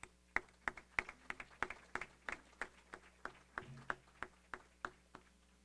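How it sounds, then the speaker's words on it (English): A small audience at a Broward College Village Square event gives a quick round of applause for its members, heard as scattered, distinct hand claps at a loose, steady pace, soft and a little distant. "let us give you a quick round of applause"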